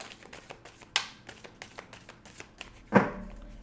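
Close, soft riffles of an oracle card deck being shuffled in short repeated bursts, with a couple of louder slaps.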